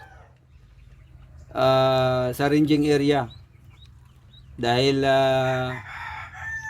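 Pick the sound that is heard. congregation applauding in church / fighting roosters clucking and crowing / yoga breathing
fighting roosters clucking and crowing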